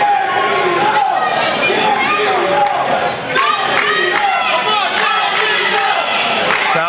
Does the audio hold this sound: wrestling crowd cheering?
yes